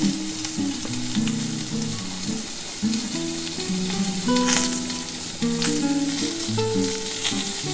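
Mango chutney with a little salt and turmeric fries steadily in a pan, giving a continuous sizzle throughout with no voices, though musical tones sit prominently over the cooking sound.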